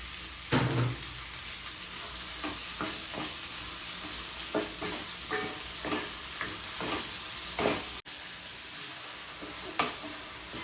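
Chopped tomatoes frying with mint leaves in a pan, a steady sizzle broken by a series of sharp spoon scrapes and stirring knocks, close and fairly loud, with no voices.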